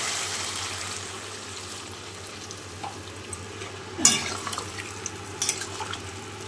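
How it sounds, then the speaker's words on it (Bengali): Broth poured into a pan of fried cauliflower curry, a soft sizzling wash with a sharper splash and bubbling bursts partway through, close and alone with no talk. "এবার আমি এর মধ্যে পরিমাণ মতন ঝোল দিয়ে দেব"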